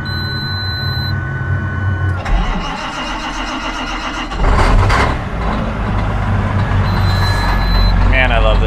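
A 450 farm tractor's engine cranks and catches on a cold morning after freezing overnight, then settles into a loud, steady diesel idle nearby. A high electronic beep sounds before and after the start.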